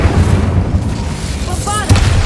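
An Incendio fire spell bursts out in the fantasy game Hogwarts Legacy, a low rumbling whoosh with a brief crackle near the end, heard up close as a single short blast.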